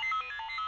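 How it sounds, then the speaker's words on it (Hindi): A phone ringtone plays a short melodic electronic pattern of quick alternating tones, heard alone and fairly clear for under a second. "डॉन का फोन।"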